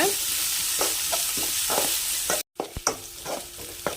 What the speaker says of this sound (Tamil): கேப்சிக்கம் ஆட் பண்ணதுக்கப்புறம் அடுப்பை ஹை ஃப்ளேமில் வச்சுக்கிட்டு ஒன்றுலேருந்து ரெண்டு நிமிஷம் நல்லா வதக்கி எடுத்துக்கோங்க